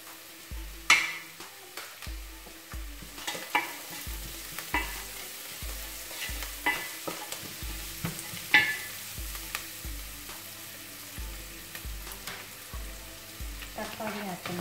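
Ginger and garlic fry in an oiled pan for mushroom biryani, a steady sizzle broken by regular spatula scrapes and taps against the pan, close and moderately loud, with faint background music.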